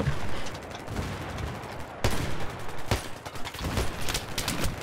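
Video game gunfire, dense rapid shots and bursts fired close and loud, with sharp cracks standing out against a steady rumble and no talking.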